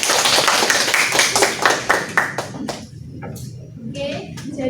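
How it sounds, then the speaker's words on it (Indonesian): A classroom of students claps hands together in a quick burst of sharp, rhythmic claps that stops after a few seconds, leaving quieter room noise with a few scattered taps and faint voices. "Tepuk tangan untuk"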